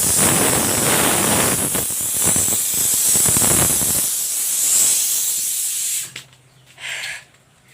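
After dal has cooked, a pressure cooker vents steam in a loud, continuous hiss for several seconds, then cuts off abruptly, followed by a short fainter puff.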